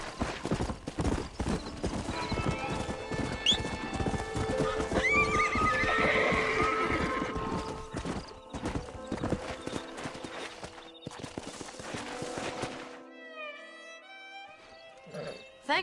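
Hooves clip-clop in a fast galloping rhythm in Red Dead Redemption, loud and close, with a horse whinnying midway; the hoofbeats fade toward the end.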